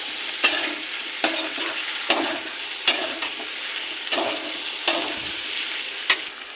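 Potatoes frying in a pan with ginger, green chili and poppy seeds for aloo posto: a steady close sizzle broken by sharp periodic scrapes and clinks of stirring about once a second, with no voices.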